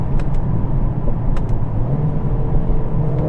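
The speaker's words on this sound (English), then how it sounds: "and you've got these lovely pops at the back." A 2022 Mercedes-AMG CLA45s rumbles through a downshift, with a few sharp exhaust pops and crackles over the steady low engine drone, heard close from inside the car.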